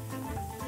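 Sweet potato sticks deep frying in hot oil give a steady, close sizzle with a constant bubbling texture and no voices over it.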